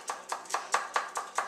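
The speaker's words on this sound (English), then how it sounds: "your knife sort of goes around it, sort of cutting the radius of the shallot" A knife chops through a shallot on a cutting board in seven evenly spaced, crisp strokes, close and clear with no talking.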